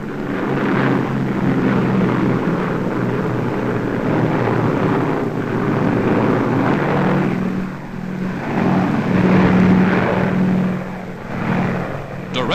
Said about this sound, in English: The transports are escorted by squadrons of fast P-38s, American fighter planes.